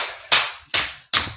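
Three sharp, close hand claps ring out at an even pace, each with a short decaying tail, during a religious teaching session in Washington DC, with no other sound between them.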